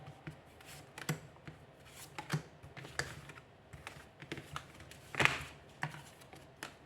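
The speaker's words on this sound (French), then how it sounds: "Et on va prendre 5 cartes." Tarot-style cards for a reading are drawn and laid down one by one, giving soft, close, irregular taps and shuffling flicks in a quiet room, with no talking.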